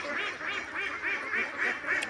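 Young ducks with half-grown wings quack in a quick, regular series of nasal calls, several overlapping, close and fairly loud with no talking.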